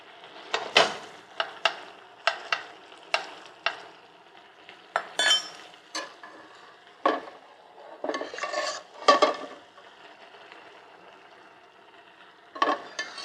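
Mussels are set into a paella pan, producing a string of close, sharp shell clinks and scrapes against the metal, with light sizzling in the background.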